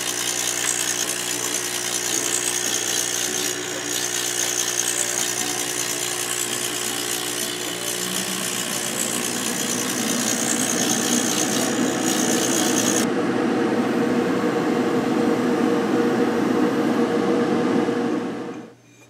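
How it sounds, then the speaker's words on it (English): A loud, steady mechanical whir from an exhaust fan venting a TiO2 tile etching setup runs continuously with a broad rushing hiss, its tone shifting partway through before cutting off abruptly at the end. "And we'll get the exhaust fan going as well."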